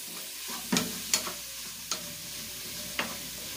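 Food frying quietly in a pan, a faint soft sizzle broken by four sharp clicks and taps of a utensil against the pan.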